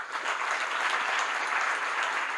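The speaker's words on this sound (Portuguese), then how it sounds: "Palmas para o professor." Audience at a union event applauds a professor, dense, even clapping from many hands that holds steady throughout.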